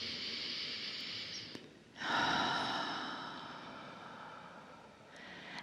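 One long, deep breath is drawn in close by, a rising airy rush that swells and then slowly fades, with quieter breathing before and after.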